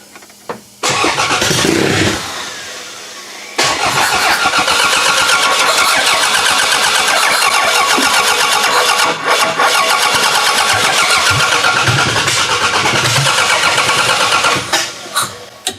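A car engine being fitted for a show is cranked, falters, then catches and fires up loudly at close range, settling into a steady, strong running roar that continues to the end.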